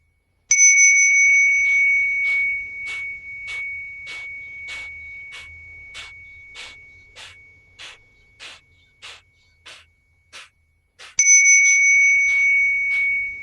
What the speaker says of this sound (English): And this bell sound you're feeling in the back of your forehead.